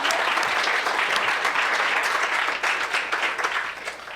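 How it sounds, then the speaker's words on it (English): An audience applauds after a presentation, a dense, sustained round of clapping that stays loud and full before thinning slightly toward the end. "Just give a round of applause one more time for Deanna."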